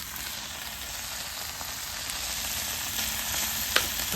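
Tuna fries in spattering oil with a dense, steady sizzle and crackle and one sharp pop near the end, heard alone.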